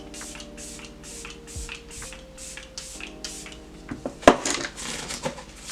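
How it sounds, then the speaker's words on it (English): A quick run of short makeup setting spray puffs, about a dozen in steady rhythm, followed by a few light clinks and taps. "Do you need that much setting spray?"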